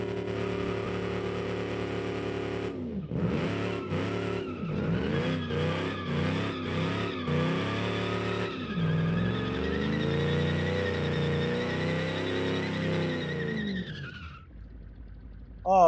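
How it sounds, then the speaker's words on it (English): A 1955 pickup truck in BeamNG spins its wheels with loud, sustained tire squeal over a revving engine, choppy bursts early on giving way to a long continuous screech that cuts out near the end. "you can actually wheel spin this thing on fourth gear"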